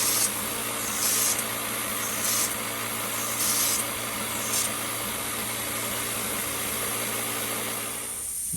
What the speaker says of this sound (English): I'm going to fill this up and start spraying.